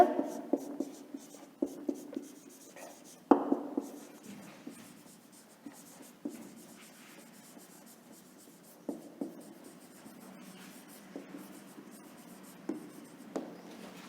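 Handwriting keywords on a surface in a classroom lesson, faint scratchy strokes in bursts with pauses, close and quiet beside a teacher's speech.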